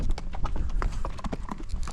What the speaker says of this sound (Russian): прям лошади по тропинке идут